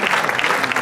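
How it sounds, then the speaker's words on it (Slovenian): Brief burst of dense audience applause at a music festival awards ceremony in Vurberk, loud and close, clapping alone. "Močan aplavz Vurberku za praznik"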